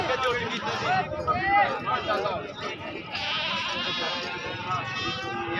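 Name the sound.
goats bleating at livestock market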